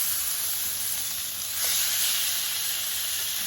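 Pork chops sear in a hot pan, giving a steady close sizzle that swells a little louder partway through and holds to the end, with no voices.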